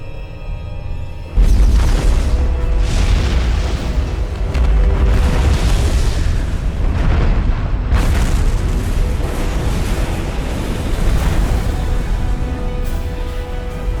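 A huge explosion destroys Shiva in the Supreme Commander 2 video game: a sudden deep boom at about 1.4 seconds opens into a loud, sustained rumbling roar that rolls on with further surges and never dies away.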